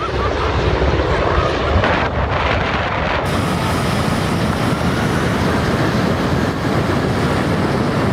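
A jet plane engine blasts a loud, unbroken broadband roar up close, mixed with heavy wind buffeting on the microphone throughout.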